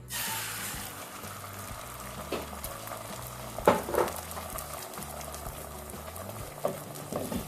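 Eggs sizzle and fry in oil in a pan, a steady crackling hiss with occasional louder pops and scraping, close and unaccompanied by talk.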